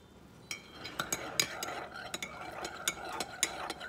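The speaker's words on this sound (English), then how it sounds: "Mix the sweetener in there." A spoon stirring sweetener into a cup of mulberry tea, a string of light clinks against the cup at an uneven pace, close and fairly quiet.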